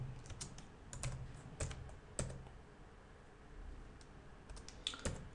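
Quiet computer keyboard typing while writing code: irregular bursts of light key clicks, faint and close, with pauses between runs of keystrokes and no speech.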